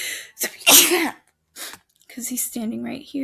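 A sneeze bursts out amid speech in a room where a math lesson on right triangle word problems is being worked through, loud and sharp near the start, with someone talking before and after it.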